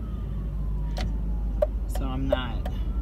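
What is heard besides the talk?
ambulance siren approaching from behind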